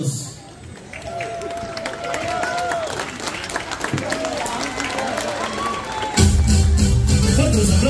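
A crowd at a quinceañera party breaks into sustained applause and cheering to welcome a couple, steady and loud throughout, swelling further near the end over background party noise.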